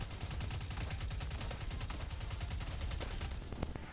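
Rapid automatic gunfire rattles through a military roleplay video game battle, sustained fast bursts sounding close and loud, with the cadence breaking into scattered shots toward the end; no speech.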